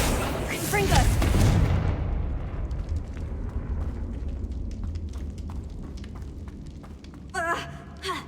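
Confringo fire spell in the Hogwarts Legacy video game, a loud fiery blast with a rumbling boom that fades into a crackling tail and ends with a short sharp burst; a voice speaks over the start.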